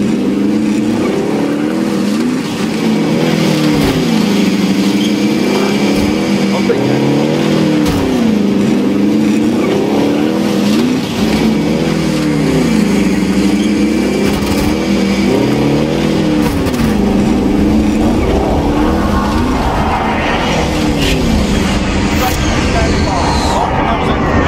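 A vehicle engine in Call of Duty Modern Warfare Warzone hums and revs in repeating surges while driving, loud and steady throughout, with occasional game noises layered on top.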